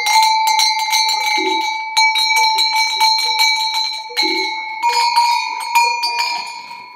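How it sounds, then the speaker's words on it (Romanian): An old sheep bell clangs repeatedly in an irregular, jangling rhythm, loud and close, with bright metallic ringing tones throughout and brief quieter gaps. "Asta are un clopot vechi."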